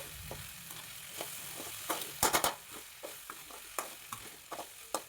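Okra for Kerala-style vendakka mezhukkupuratti sizzles softly in a pan while a spoon scrapes and stirs it in irregular strokes, with a brief cluster of sharper clatters midway.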